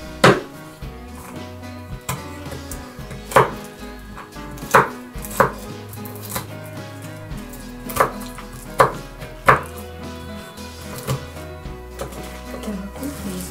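Ingredients for sugar-free oatmeal cookies, including dried fruit such as prunes, are chopped with a knife on a board: about a dozen sharp, close knocks at an irregular pace over a low background hum, with no talk.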